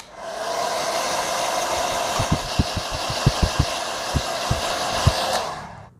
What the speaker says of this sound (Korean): 근데 이렇게 수분 있는 상태에서 마르는 거 기다리기엔 제가 지금 시간이 없으니까 드라이기로